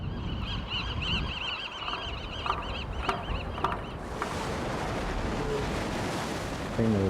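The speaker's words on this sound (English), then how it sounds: "The birds and the seals and the sound of the ocean." Raucous honking seabird calls over a steady wash of ocean surf at the Farallon Islands off San Francisco, where seals also live; then the birds fade and the rushing waves take over.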